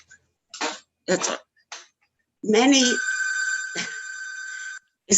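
A telephone rings once with a sustained electronic tone lasting a couple of seconds, set off from the room, between short bursts of a person talking and a throat-clearing sound.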